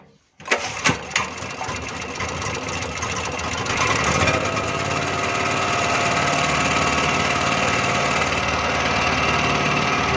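A petrol generator is started with a few sharp pull or cranking knocks, then catches and builds into a loud, steady, buzzing engine run up close that continues unbroken.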